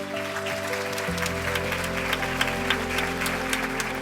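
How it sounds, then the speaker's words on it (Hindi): Audience applause rings out at a National Parish Bible Quiz to welcome a team from Nagpur, Maharashtra: dense, steady clapping over a low sustained hum or music bed, filling the whole stretch without pause. "जोरदार तालियां हो जाएं"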